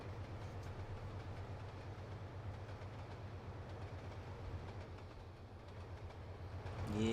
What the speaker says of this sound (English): Well, there's another freight train.